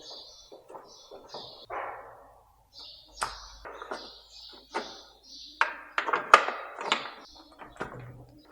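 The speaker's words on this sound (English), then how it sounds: "Oh, I hear pigeons" Pigeons stir inside a farm shed, giving scattered chirps, wing flutters and sharp knocks against wood. The sounds come in irregular bursts, close and fairly quiet, with short silences between them.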